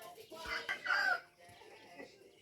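A rooster crows once, a rising then sustained call heard at a moderate distance over faint background noise.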